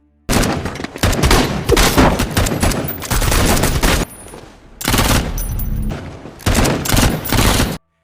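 Police gunfire in a movie scene, dense loud volleys of rapid shots in three sustained bursts separated by short lulls, close and overwhelming with no voices.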